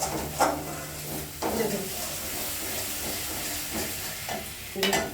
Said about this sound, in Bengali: আমার মশলাটা ভাজা হয়ে এসছে দেখুন তেল ছাড়ছে